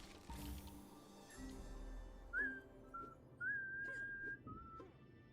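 Someone whistles a short tune of clear held notes with pauses between phrases, set over quiet Ninjago game background sounds.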